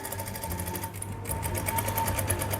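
A sewing machine runs steadily close by, its fast rhythmic needle clatter and motor whir stitching cut work along a salwar hem, with no voices over it.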